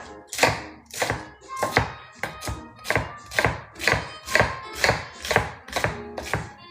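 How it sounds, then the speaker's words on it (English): Knife chopping cabbage on a cutting board: about a dozen steady, evenly spaced thuds, each with a crisp crunch, close and clear with no talking. "So cabbage is good. Get rid of that. So we're gonna just cut these decent size"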